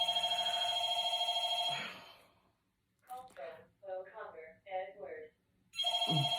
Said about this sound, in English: Apologies for the phone.